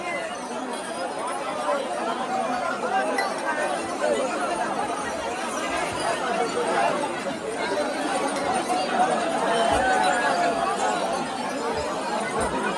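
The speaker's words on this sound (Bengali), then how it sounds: "এই ভিড় যেন কমছেই না, প্রচুর ভিড়" A dense crowd of pilgrims on the Tarakeswar Yatra route during Shravan month fills the air with steady, continuous babble and shuffling, voices blending into an unbroken roar throughout.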